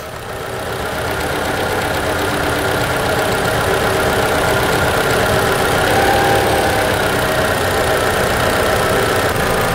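A car engine idles loudly and steadily during a cylinder power balance fuel cut test, its close, even rumble holding a constant drone throughout.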